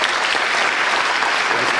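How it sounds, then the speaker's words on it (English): A television talk-show studio audience breaks into steady, sustained applause, a dense wash of clapping with no pauses, fairly loud and with no talking over it. "You get applause for that"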